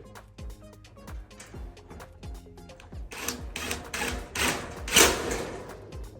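A screw being driven into a Monument Grills gas grill during assembly, a close series of rhythmic mechanical clicks and creaks that give way to louder scraping, grinding bursts toward the end.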